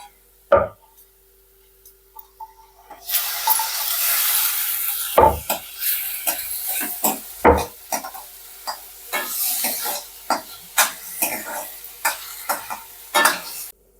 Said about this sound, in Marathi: आता टोमॅटो आपला एकदम मऊ झालेला आहे, छान परतून झालाय